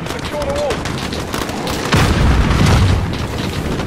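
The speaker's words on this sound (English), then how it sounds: "Oh, grenade." A grenade goes off in Call of Duty: Modern Warfare amid game gunfire, one deep booming blast landing midway and rumbling low after rattling shots, with voices talking throughout.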